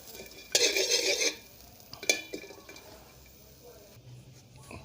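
Galangal and krachai roasting in a pan for a Thai spiced chicken laap, with bursts of stirring scrapes and sizzling at close range, a loud clatter early on and another brief flurry, then quieter pan noise.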